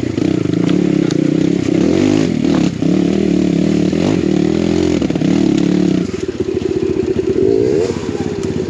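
A BBR KLX170RF dirt bike revs hard on a snowy hill, its engine droning and buzzing steadily close by as the rear tire spins, then dropping to a rougher, choppier idle near the end.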